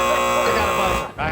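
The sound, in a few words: game show buzzer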